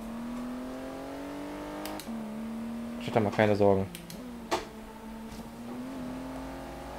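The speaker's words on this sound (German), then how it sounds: "Geht halt einen dicken V12 unter der Motorhaube vorne." A V12 sports car engine in the racing video game Forza Horizon 3 hums steadily, with a short, louder burst of revving in the middle while someone talks over it.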